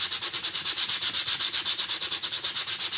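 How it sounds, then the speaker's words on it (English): Painted wood being sanded by hand in quick, regular back-and-forth strokes, a close, rhythmic rasping scrape repeating about seven times a second with no talking. "So we're going to sand it down."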